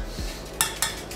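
Hot metal jar lids for marmalade clink against each other and the pot in two quick close knocks after a soft thud, with no talk.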